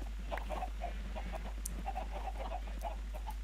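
Chickens clucking in a blocky video game sheep farm, a steady run of short soft clucks under a constant low hum, faint and unvoiced by any speaker.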